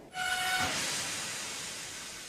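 A steam locomotive pulls into a station, a loud burst of hissing steam with a brief squeal at the start, then trailing off gradually into a softer, sustained hiss.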